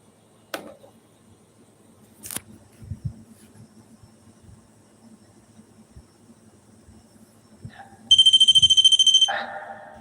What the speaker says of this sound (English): this is motion activated, and it sets an audible alarm when there is a ghost